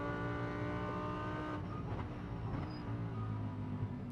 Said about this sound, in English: Fifth becomes fourth, becomes third as he drops down the gears, powers out the other side